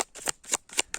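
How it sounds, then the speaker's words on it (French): Tarot cards being shuffled by hand: four quick riffling bursts in steady rhythm over about a second, close and crisp. "les cartes, elles tombent"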